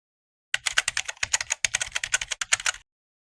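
Someone types a connector name on a computer keyboard: a quick, clear run of roughly twenty close key clicks over about two seconds, with short pauses and no talking.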